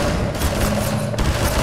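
Dense, continuous gunfire from a Half-Life 2 firefight, a loud sustained volley of overlapping shots and booms with a brief dip in the middle, heard alone without talk.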